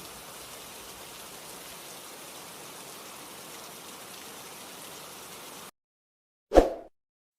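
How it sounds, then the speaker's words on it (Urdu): Rain falls in a steady, even hiss for several seconds, then stops abruptly, followed after a brief silence by a single short thud. "بارش برس رہی تھی، آسمان پر بادل مزید گہرے ہو رہے تھے"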